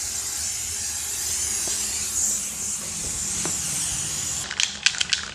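A close, steady hiss from an aerosol can of thick bedliner coating, sprayed on a 2004 Chevy Suburban 2500, lasts several seconds, then gives way to a few light clicks and taps.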